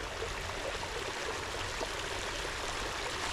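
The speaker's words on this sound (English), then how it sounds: "right here, just under the shade area with the water running" Water runs steadily into a shaded koi pond, a continuous close rushing and trickling stream with no break and no voices.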